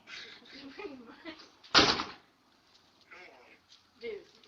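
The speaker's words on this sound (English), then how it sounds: "my fucking door just closed" A house door slams shut in one loud, abrupt thud amid quiet talk by nearby voices, who keep speaking afterward.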